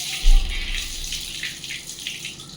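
Water splashes and streams while a Labrador dog is bathed, a steady running wash with a brief louder gush near the start, with no talking.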